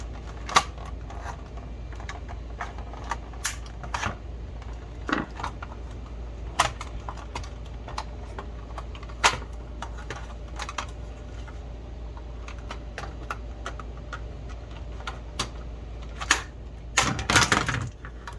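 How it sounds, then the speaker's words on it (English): Flathead screwdriver prying open the plastic shell of a Nerf Rayven blaster, a quiet scatter of sharp clicks and snaps at irregular intervals, ending in a louder cluster of cracking plastic. "we're just going to take a flathead and kind of pry it up"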